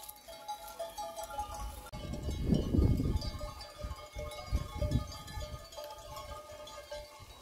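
Goats and sheep with small bells on a rocky limestone trail at El Torcal, some passing close by; irregular clinks and soft jingling, with rustling and footsteps below, moderately near and fairly quiet.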